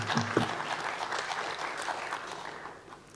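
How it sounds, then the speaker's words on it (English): A conference audience claps to welcome a speaker at a MySQL spatial support talk, a modest, fairly quiet patter of hands that gradually fades out. "So please clap."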